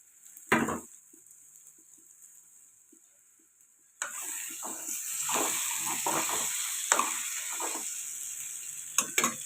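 Dried fish dropped into hot oil in a pan for a dried fish and onion curry, a brief sizzle at first, then a steady loud frying hiss with scattered clinks and pops, no voices.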